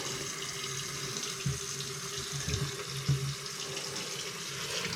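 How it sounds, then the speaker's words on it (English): Hot water runs from a tap into a sink while sugar water for feeding bees is mixed, a steady rushing flow with a few brief knocks and clunks. "I get my hot water going here."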